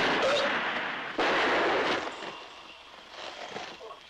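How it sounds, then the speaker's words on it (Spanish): Gunfire in a film scene, a booming blast at the start followed by a second sharp report that decays into a rumbling echo, loud and reverberant. "¿Fueron disparos?"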